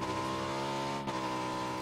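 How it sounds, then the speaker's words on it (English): A vehicle in the battle-royale game PUBG approaches with a steady droning engine hum, faint and continuous with little change in pitch, no talk over it. "Vehicle coming."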